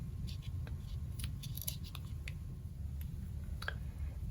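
Scissors trimming paper for a handmade vellum overlay card, heard as quiet, scattered snipping clicks close up over a low, steady room rumble.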